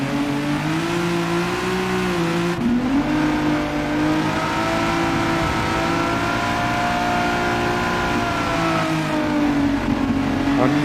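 A modified Peugeot 205 drives in Gran Turismo 7, its engine revving loud and close, pitch climbing through gears with a sharp shift break, then holding a high steady whine with faint tire noise.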